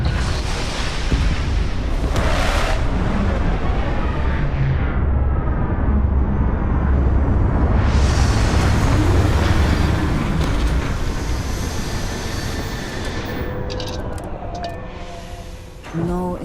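Spacecraft touching down in a video game, a sustained loud roaring rumble of thrusters that holds steady for most of the stretch, then eases off and fades near the end, with brief synthetic game sounds at the close.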